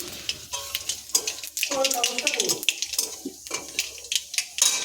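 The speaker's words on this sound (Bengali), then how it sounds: "মাছগুলো সব ভাজা হয়েছে এবার সেই তেলেই আমরা কালো জিরে ফোড়ন দিয়ে দেবো" Nigella seeds are tempered in hot oil left over from frying fish, giving a crackling sizzle with sharp pops and some clinks of utensil against pan. A voice talks intermittently over it.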